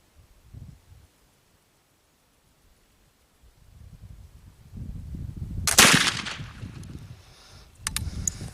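A single sharp gunshot fired with homemade DIY black powder rings out outdoors midway, loud and abrupt, followed by a couple of faint cracks, amid rustling and low handling noise before and after.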